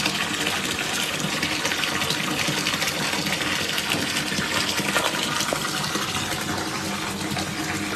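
Water gushes steadily from a shower hose at home, a dense broadband hiss and splash that stays loud and even throughout with no talking.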